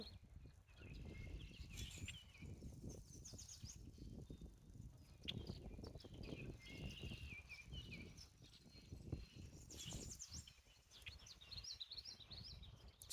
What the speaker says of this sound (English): so many birds here. So many birds here.